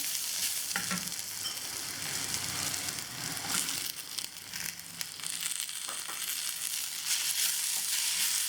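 Onion and tomato sizzle steadily in a pan for mutton masala, a loud continuous frying hiss with occasional stirring scrapes, close up and without talk.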